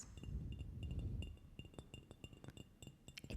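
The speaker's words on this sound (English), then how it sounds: "It's a glass and it's shaped like a cat." Light fingertip taps on a hollow cat-shaped glass, producing a string of soft, close clinks and small knocks at an irregular pace, quiet and intimate with no speech.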